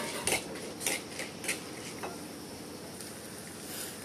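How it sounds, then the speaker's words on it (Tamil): Spices such as cumin fry in oil in a pan for a village-style meat curry, with a steady low sizzle under a few metallic scrapes and clinks of a spoon stirring, close and without talk. "நல்லா செவக்க வறுத்துடணும்."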